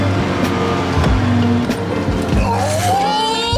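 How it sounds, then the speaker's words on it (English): A JDM mini truck with a broken exhaust runs rough in the snow, its engine note loud and close, dipping and then climbing with revs while voices speak over it. "It sounds like the exhaust is broken."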